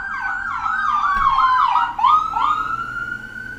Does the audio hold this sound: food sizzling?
no